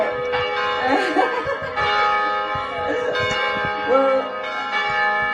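Church bells peal steadily in a rich, resonant chime throughout, sounding close and loud, with a crowd's murmurs and light laughter underneath during an outdoor climate justice gathering.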